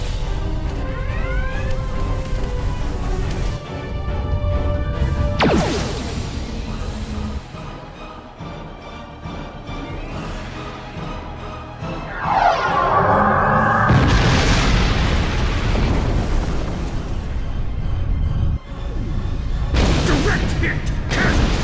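Starship weapons fire and hits in the space combat game Star Trek Online: deep booming impacts and blasts over droning engine hum and electronic tones, swelling louder midway, with dialogue audible in places.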